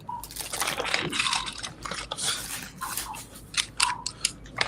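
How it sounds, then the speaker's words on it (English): Loud, close crinkling of packaging in irregular bursts, crackling and rustling with sharp snaps between quieter pauses. "Sorry for the crinkling."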